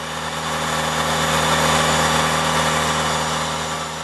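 A car engine runs steadily near idle during a Revive turbo cleaner treatment, a close, even mechanical hum with a slight swell in loudness midway and no talking.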